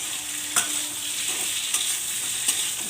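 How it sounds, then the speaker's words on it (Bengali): Drumstick stems coated in green chili and coconut paste fry in a pan, a constant sizzle broken by three spatula scrapes as they are stirred. "ভালো করে নাড়াচাড়া দিয়ে নেব"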